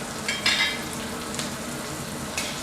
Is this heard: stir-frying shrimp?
yes